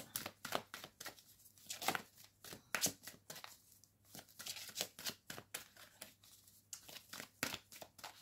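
Cards are shuffled and drawn during a card reading, with a quick irregular series of crisp riffles, snaps and flicks, close and fairly loud, with no talking.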